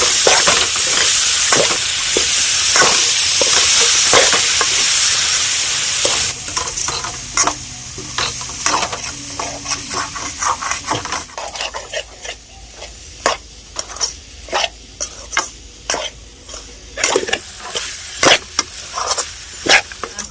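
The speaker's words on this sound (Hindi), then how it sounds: "चलाते हैं अच्छे से, मसाले के साथ सैम को पका लेते हैं।" Loud sizzling of beans frying with spices in a pan, with repeated scraping and stirring strokes of a spoon; the sizzle quiets partway as stirring continues.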